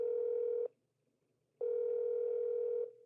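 A phone rings out as a call is placed, two long steady electronic tones separated by a short pause, clear and close with no one talking.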